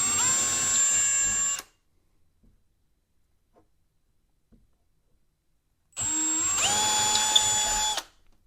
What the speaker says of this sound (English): Drill a pilot hole for your anchor.